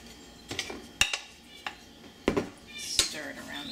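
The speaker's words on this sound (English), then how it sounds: "I'm going to start off with adding a bunch of olive oil, just like that, and then I'm going to put the leeks in." Leeks drop into a saucepan with olive oil, giving a few sharp metallic clinks and clatters of cookware and utensils against a quiet background, with a person talking in the kitchen.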